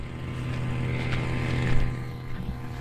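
Boat engine idling steadily after being started, a droning low hum with a continuous mechanical tone that swells slightly midway, heard alone without speech.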